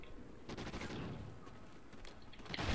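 Gunfire in the multiplayer video game Call of Duty Ghosts, with dense automatic bursts and sharp shots blending into a continuous rattle, loud and steady throughout with no talking.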